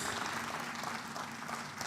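Brief round of applause from an audience at an annual members' meeting, honoring a Minister of Finance; steady, dense clapping throughout, at moderate level, with no speech over it.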